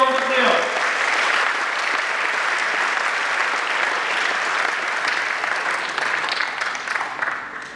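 Large audience at a university new-student induction ceremony in Indonesia breaks into sustained, loud applause, a dense wash of clapping that holds steady and tapers slightly near the end.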